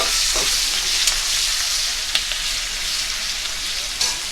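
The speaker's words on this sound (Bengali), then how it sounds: "এর মধ্যে দিয়ে দিচ্ছি অল্প পরিমাণে কালো জিরা ফোড়ন, আর দিয়ে দেব পেঁয়াজ কুচি" Chopped onions and black cumin seeds sizzle steadily in hot oil, a close, continuous frying hiss with a few stirring clicks.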